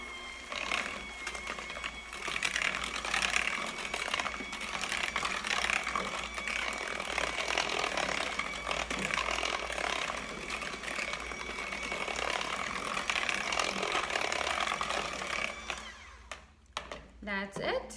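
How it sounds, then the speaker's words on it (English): A hand mixer beating wet ingredients for sweet potato bread in a bowl: a continuous whirring motor hum with rattling from the beaters, running for most of the stretch before it cuts off. "just grab the hand mixer and mix it all together"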